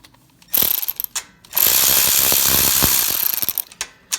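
A ratchet with a long extension backs out 10mm bolts from the cover of a Husky generator, giving a loud, close, rapid clicking that runs in a short burst and then a longer stretch.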